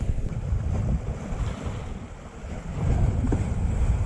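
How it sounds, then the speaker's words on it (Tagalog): Strong waves slap and surge around a small fishing boat at sea, with steady wind buffeting the microphone; the rough water noise swells louder toward the end, close and continuous, with no talk. "lakas ng alon"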